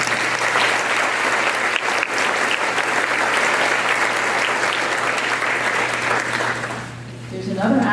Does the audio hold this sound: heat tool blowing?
no